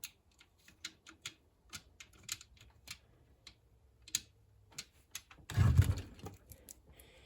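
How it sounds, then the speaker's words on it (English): The centrifugal switch of an old General Electric motor clicks in a scattered, irregular run of sharp dry ticks, close and quiet, broken by one louder rumbling burst near the end. "There's these, like, little cutouts in the centrifugal switch. I don't know why there are, but it makes that clicking sound."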